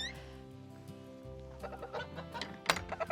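Chickens in a large hen house cluck and murmur at close range, with repeated short clucks and a few sharper squawks building toward the end, faint overall and without talk.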